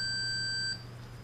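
A multimeter continuity beep while probing the shorted tuning condenser of a Silvertone Companion 57 D 1704 radio: one steady, loud electronic tone held for about three quarters of a second, then cut off, leaving a low hum.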